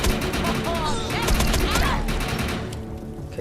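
Dense, sustained automatic gunfire from a first-person shooter game, Defiance 2050, rattling continuously at close range with layered shots and some game effects, fading slightly toward the end.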